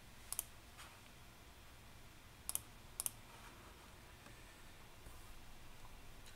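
A computer mouse gives a few sharp, quiet clicks: a quick double click near the start, then two more pairs a few seconds later, all against a faint room hiss.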